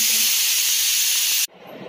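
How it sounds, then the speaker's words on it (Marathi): A loud, steady hiss of steam rushing from a pressure cooker whistle while cooking puran poli filling, cutting off abruptly near the end, leaving quieter background noise. "थोडीशी शिट्टी म्हणजे वाफ जाते ना अशी शिट्टी वरती गेल्यावर"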